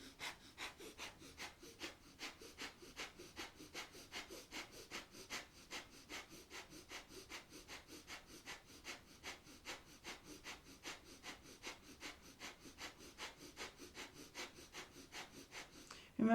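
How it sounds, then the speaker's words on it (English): Breath of fire yogic breathing, rapid and steady rhythmic nasal exhalations in a fast even pulse, faint and close, held continuously without talk. "begin breath of fire"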